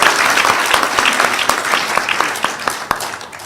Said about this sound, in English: please give a round of applause for Bronson Waka.